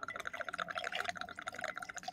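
Tequila poured from a bottle for a cocktail behind a bar, a quiet steady liquid stream running throughout with a faint gurgle, close and alone without talk.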